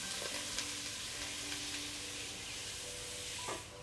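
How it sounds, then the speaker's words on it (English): Leeks sautéing in melted butter in a soup pot over medium heat give a steady, soft sizzle with faint stirring scrapes and a brief louder clatter near the end; no one talks. "Add the clean leeks and sauté for a few minutes until they soften."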